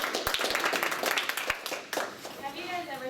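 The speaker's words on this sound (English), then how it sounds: "let's clap for Ashley again" A classroom audience applauds a student speaker, a brief burst of mixed hand claps that thins out and fades as voices begin near the end.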